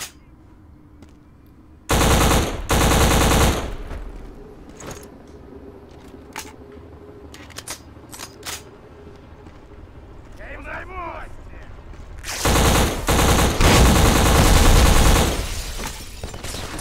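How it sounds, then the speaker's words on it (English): Machine gun fire from the first-person shooter game Black comes in two loud sustained bursts of rapid automatic shots, with scattered single shots and quieter game sounds in between. "The gunfire in this game is meant to sound casual and stuff."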